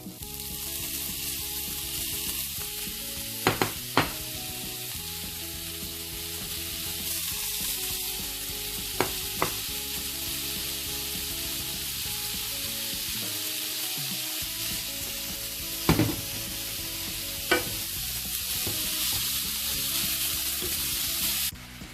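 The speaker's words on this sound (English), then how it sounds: "now we add the bacon." Bacon sizzles and spits steadily in a lightly oiled pan, a dense, continuous frying hiss with a few sharp pops and utensil clinks rising out of it, close and moderately loud throughout with no talking.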